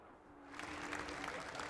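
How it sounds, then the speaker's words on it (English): Crowd at the ADAC SimRacing Expo swells into applause for a sim racing podium lockout, a steady wash of clapping building after a quiet start, with a voice talking over it. "the crowd show their appreciation for them"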